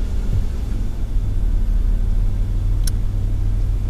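A car engine hums at low idle, a steady low rumble with little change, heard close and alone during an idle air control valve test.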